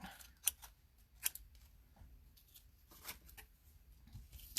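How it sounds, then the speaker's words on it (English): Scissors snip through cardstock at close range for Christmas card making, with a few sharp cuts spaced apart and soft rustling of the card between them in a quiet room. "Let me cut this out a little bit."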